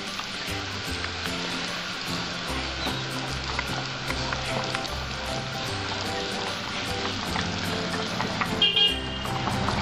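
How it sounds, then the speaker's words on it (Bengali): A light catfish curry bubbles in a pot, giving a dense, steady sizzling patter with low rhythmic bubbling underneath, close and continuous, no talking. "দেখুন আমার ঝোলটা ফুটছে"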